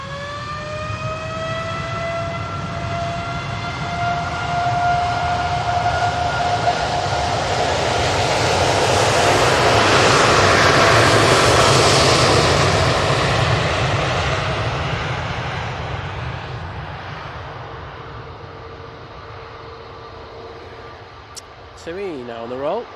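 A TUI Boeing 787-8 Dreamliner roars through its takeoff roll at Manchester Airport, its engine whine rising into a broad, loud swell that peaks midway and slowly fades into the distance.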